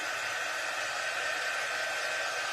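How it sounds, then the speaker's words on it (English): A hair-dryer-style craft dryer blows steadily on a chalk paste wall piece, making a constant close whooshing hiss with no pauses. "I'm just going to take my dryer to it"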